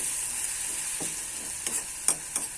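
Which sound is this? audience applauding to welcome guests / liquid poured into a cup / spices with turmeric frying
spices with turmeric frying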